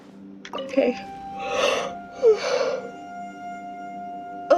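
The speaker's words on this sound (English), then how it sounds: "Oh, I feel so rude by yawning all the time." A person yawns out loud while playing through Baizhu's Story Quest. Two long, breathy voiced yawns stand out between short vocal sounds, up close over a quiet game background.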